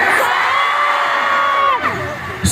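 A large outdoor concert crowd at a Manila music festival shouts and cheers loudly in sustained, overlapping yells and whoops that rise and fall together.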